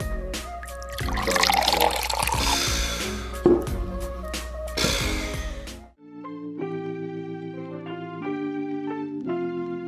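Craft beer pours and splashes noisily into a glass for several seconds, then the pouring stops and music carries on.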